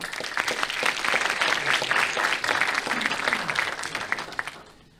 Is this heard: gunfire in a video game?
no